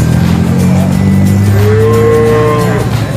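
Cattle moo loudly and close by, one long low bellow rising in pitch, over a steady rumble of background noise.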